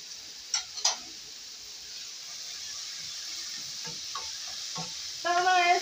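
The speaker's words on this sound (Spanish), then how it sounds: "Todo esto vamos a hacer un refrito hasta que se sancoche completamente para luego agregar la carne" Tomato, cumin and pepper fry together for a refrito, giving a faint, steady sizzle with a few sharp utensil clicks and stirring scrapes in a quiet kitchen, then a brief tonal beep near the end.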